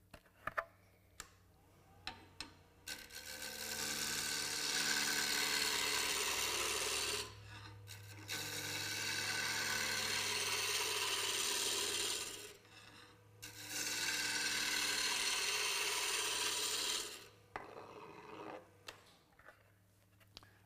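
Spindle gouge cutting a spinning wood piece on a lathe: three long rasping, hissing cuts of several seconds each, with brief ticking pauses between, close and clear with no talk.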